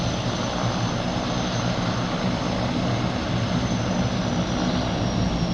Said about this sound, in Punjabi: ਲਓ ਜੀ ਆ ਪਾਣੀ ਵਾਲੇ ਜਹਾਜ਼ ਆ ਜਿਹੜੇ ਇਹ ਪਾਣੀ 'ਚ ਹੀ ਉੱਡਦੇ ਆ